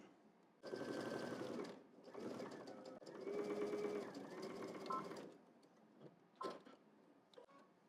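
A sewing machine stitches a double-breasted jacket in several loud, close whirring runs separated by short pauses, followed by a few clicks and handling noises as the fabric is adjusted.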